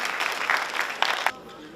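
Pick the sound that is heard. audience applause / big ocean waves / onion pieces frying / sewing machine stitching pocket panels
audience applause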